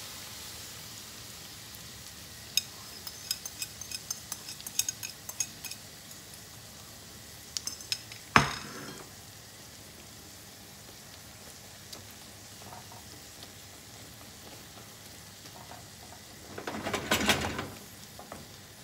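Eggs poured into a pan of onions and mortadella, with a faint sizzle and scattered light clinks through the first half, a sharp knock near the middle, and a brief louder crackling burst near the end.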